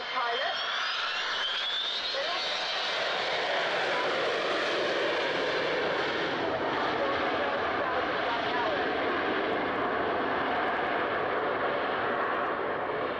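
Aircraft engines drone steadily at Cosford Airshow, a broad, continuous roar heard from a distance that holds level throughout, with a faint slow pitch shift as a plane passes.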